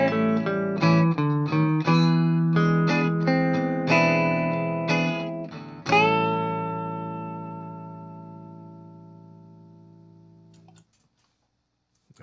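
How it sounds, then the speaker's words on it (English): Electric guitar lick playing a 3 over 2 rhythmic figure: a quick run of distorted picked notes, then a final chord that rings out and fades over several seconds, loud and close with no talk. "that's the sound of 3/2"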